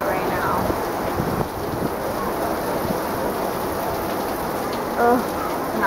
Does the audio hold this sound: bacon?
no